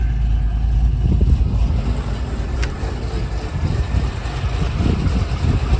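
A 2003 Corvette Z06 with a 405 horsepower LS6 V8 idles close by, giving a steady, loud low-pitched burble with slight uneven pulsing.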